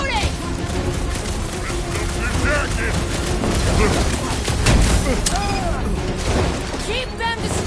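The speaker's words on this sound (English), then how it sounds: "Keep shooting!" Gunfire in the Marvel Guardians of the Galaxy video game, a dense, continuous stream of shots and impacts over a loud game soundtrack while characters talk over the action.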